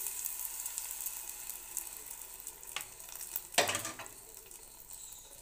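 A hot tempering with hing is poured into a South Indian paddu dish, sending up a quiet sizzle with two short bursts of spitting, the second louder, over steady faint frying noise.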